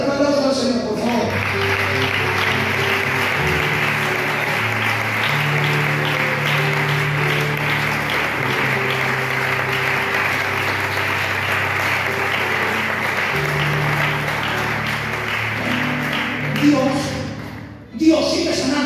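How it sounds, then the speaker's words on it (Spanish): A church congregation applauding, a dense sustained clapping that swells and carries on for several seconds alongside faint shuffling and voices. "Dale un aplauso al Señor, por favor."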